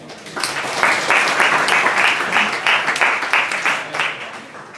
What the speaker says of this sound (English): Let's warmly welcome to our distinguished guests with big applause.